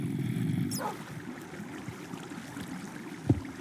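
A dog in the Minecraft video game gives a brief high whimpering whine early on, heard faintly over a low background rumble, followed by a short soft thump near the end.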